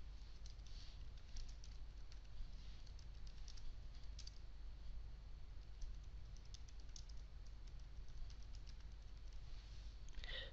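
Quiet, scattered keystrokes on a computer keyboard as a name and description are typed into query software, soft irregular clicks over a faint background hum.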